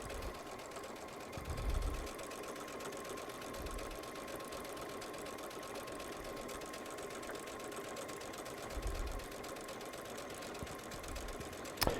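A Baby Lock Solaris sewing machine fitted with a walking foot runs steadily over a quilt top, a continuous mechanical hum with a faint stitching rattle and a few soft low bumps, fairly quiet and without talk.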